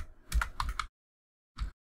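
Typing on a computer keyboard while entering Python code: a quick run of several crisp, close keystrokes, then a short pause and one final key press, with no talking.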